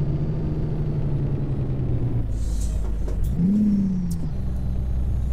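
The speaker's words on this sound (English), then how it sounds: "I keep revving, because I'm thinking I'm in the real truck, and I keep revving the guts out of it" A Kenworth W900 truck engine in American Truck Simulator drones at a steady low idle, then revs up in a short rising surge that falls back, with a faint hiss of air overhead, loud and close with no talking.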